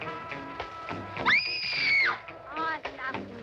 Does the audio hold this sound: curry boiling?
no